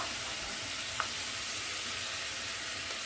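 Zucchini and onion sautéing together in a pan give a steady, close sizzle and hiss that runs without a break.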